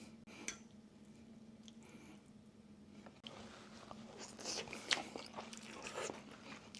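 Crunchy bites and chewing on smoked onions, close and fairly quiet, with a louder crisp bite near the middle against a low steady hum.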